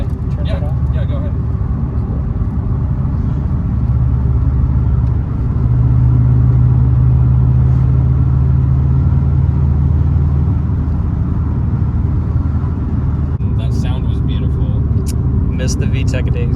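A tuned Subaru WRX with a catless downpipe exhaust drones steadily from inside the car, a low engine rumble that swells slightly midway, with occasional voices talking over it.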